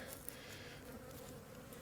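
Honey bees in a strong winter colony humming as a faint, steady, even drone with no pauses, close to the opened hive.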